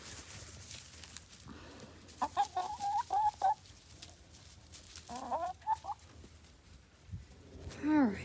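Chickens on a small farm cluck in short bursts and a few drawn-out calls, fairly quiet and somewhat distant over low background noise.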